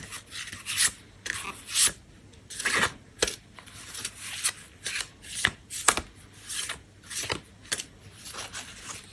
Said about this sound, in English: have a little meditate while I shuffle the cards for the first time